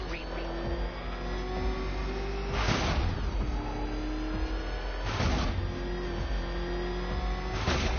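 A Batmobile engine in Batman Arkham Knight drones and revs steadily, with three loud surging bursts roughly two and a half seconds apart rising over the continuous motor hum.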